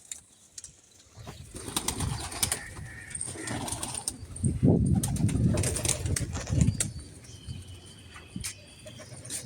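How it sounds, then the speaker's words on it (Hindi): Pigeons coo and flap their wings near and far, with bursts of wingbeats and soft cooing calls rising and falling among quieter outdoor background sound. "तो अभी सारे कबूतर भी बाहर आ गए।"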